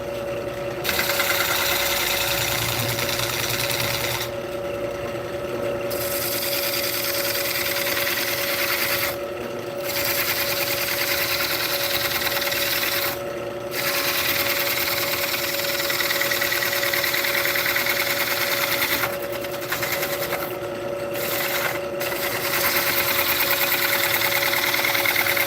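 A wood lathe turns walnut crotch wood with a steady, loud mechanical whine and hum, while tool cuts add a rough scraping texture that breaks off in several short pauses.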